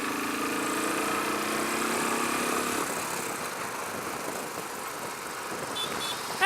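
Royal Enfield Classic 500 motorcycle engine at full throttle climbing a hill in a low gear, a loud steady thumping drone close to the rider that holds constant throughout with rushing wind noise.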